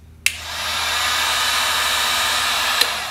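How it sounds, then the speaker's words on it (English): A heat gun switches on with a sharp click and settles into a steady, loud blowing whir like a hair dryer, warming up evenly, with another click near the end. "Okay, so I've got my heat gun."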